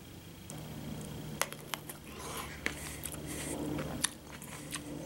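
Someone bites into and chews a ripe dinosaur egg plum, up close, with a series of sharp, crisp bite clicks and soft wet chewing spread through.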